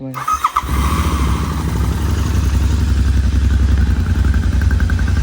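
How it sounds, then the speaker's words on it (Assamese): A motorcycle cold start on a trip setting out from Guwahati toward the hills: a short cranking clatter, then the engine catches and settles into a loud, close, steady idle with a low rhythmic thrum. "আমি ক'ল্ড ষ্টাৰ্টটো কৰি লওঁ"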